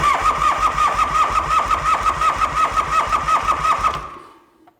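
The engine of an old muscle car, abandoned in a barn for forty years, cranks with a fast, rhythmic chug for about four seconds, then cuts off abruptly into silence.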